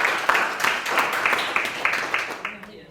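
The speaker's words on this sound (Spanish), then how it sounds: "Muy bien, aplausos a sus compañeros." Students give applause for their classmates in a classroom, a short burst of moderately loud clapping with rhythmic hand claps that fades toward the end.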